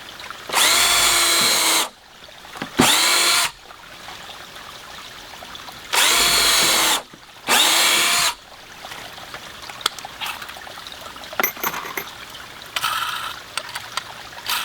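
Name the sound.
power drill driving screws into a wooden flume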